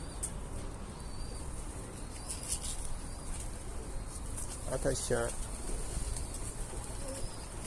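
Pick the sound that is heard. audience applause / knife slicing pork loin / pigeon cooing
pigeon cooing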